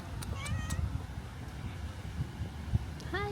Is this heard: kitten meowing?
yes